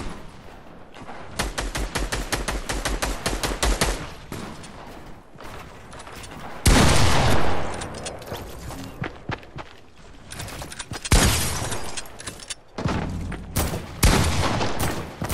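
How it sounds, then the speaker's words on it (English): Rapid automatic gunfire from a minigun in the Fortnite video game, loud sustained bursts of dense repeated shots with brief gaps and overlapping game action sounds. "Just spam the minigun."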